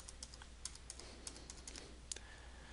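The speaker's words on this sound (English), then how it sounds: "Go ahead and type your username." A username being typed on a computer keyboard, light irregular key clicks at close range over a quiet room hiss, with a few sharper taps standing out.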